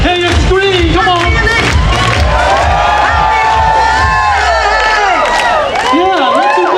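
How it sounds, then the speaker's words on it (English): A large festival crowd at the Northern California Soy & Tofu Festival in Japantown screams and cheers loudly and continuously. Many overlapping voices rise and fall in pitch throughout. "Hey, you scream, come on."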